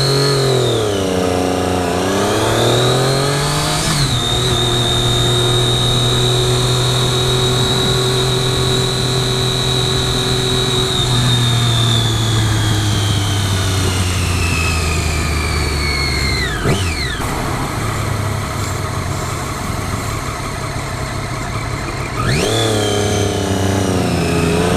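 A 2013 Triumph Daytona 675R sport bike is ridden hard, its loud engine note climbing and dropping through several gear changes, with steady wind rush throughout.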